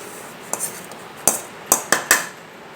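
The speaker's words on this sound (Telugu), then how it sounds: "జీలకర్ర పొడి కూడా వేస్తున్నాం చింతపండులో దంచుతున్నాం" Tamarind being pounded with cumin powder for an old-style pickle, five sharp metallic knocks in an uneven rhythm, close and fairly loud against a quiet background.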